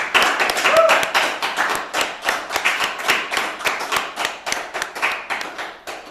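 Audience clapping after a poetry reading at a spoken word and music night, a steady patter of claps from a modest crowd lasting several seconds and fading away at the end.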